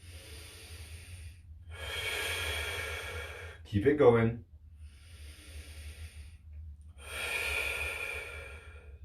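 Slow, deep breaths drawn in and let out during a neck stretch, long steady airy swells with pauses between them, close to the listener, with one short spoken instruction in the middle.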